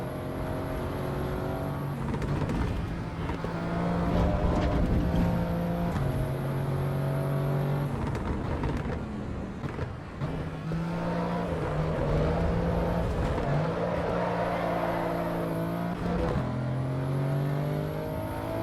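A racing car engine in Assetto Corsa Evo drones loudly and continuously, revving up and down through gear changes with harmonic whine over a long, unbroken stretch of driving.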